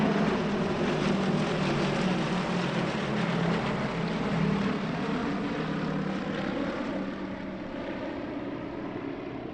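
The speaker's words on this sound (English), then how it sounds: "5 Yaks of Yak-52 join the 3 flown by the Yak Stars, plus 2 more from the Air Race Championships for a 10-ship formation pass" A ten-ship formation of Yak-52 piston-engined aircraft makes an airshow flypast in Portugal, a loud, steady, continuous propeller drone that holds for several seconds and then eases slightly as the planes pass.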